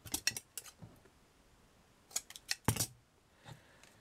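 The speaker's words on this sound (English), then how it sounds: "make sure I cut them all the same" Scissors snip wood or card pieces for a miniature seaside surf shack, a quick cluster of crisp cuts, then a pause and another burst of close, sharp snips, ending with a few softer ones.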